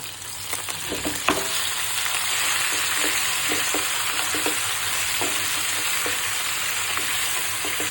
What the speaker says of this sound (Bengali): চুলাটা বাড়িয়ে গরুর মাংসটা একটু ভাজা ভাজা করব